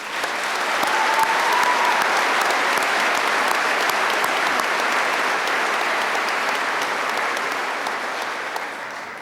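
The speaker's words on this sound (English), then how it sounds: "Please join me in one more round of applause for all the people who made it possible for our graduates to be here" Sustained, dense applause from a large audience at a 2021 undergraduate commencement ceremony, steady and loud throughout before tapering slightly at the end, with no voices over it.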